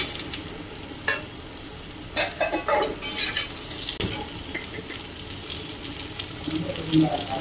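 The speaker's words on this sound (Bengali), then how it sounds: "এটা ভাজা হচ্ছে" Ridge gourd and potato fry in a pan with a steady sizzle, overlaid by scraping stir strokes and occasional clinks of utensils, fairly close and moderate in loudness.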